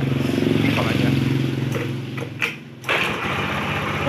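A Honda Beat FI scooter engine with a newly fitted KJ piston runs at a steady close idle, then dips briefly and picks back up into an even, buzzing rumble.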